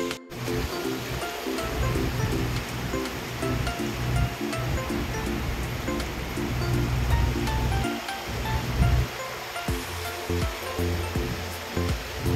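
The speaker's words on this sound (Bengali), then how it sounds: "এখান দিয়ে জানলা দিয়ে জল ছিটকে ছিটকে আসছে, দেখো এটা বন্ধ করে দিতে হবে" Rainwater splashing in through an open window, heard as a dense, continuous rush of water and spray with no talking.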